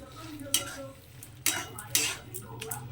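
A bean dish with mustard oil is mixed in a pan: several sharp spatula scrapes and clicks against metal at uneven intervals over a low sizzle, close by.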